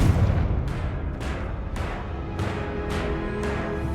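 Confringo spell explosions in Hogwarts Legacy go off as six or seven sharp, booming blasts at roughly half-second spacing, each decaying quickly, loud and close with no talk.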